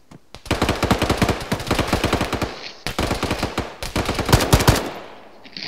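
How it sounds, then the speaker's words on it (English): Rapid automatic gunfire in the military shooter game ArmA, long loud bursts of fast repeated shots with a brief pause near the middle, then tailing off at the end. "I hear gunshots."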